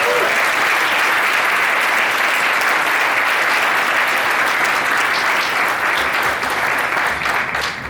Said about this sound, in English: Can we give this huge program a round of applause?